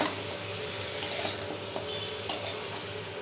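Potatoes and spices are stirred in a pan with a spoon, producing a close, continuous scraping and sizzling texture broken by two sharp metallic clinks against the pan, with no one talking.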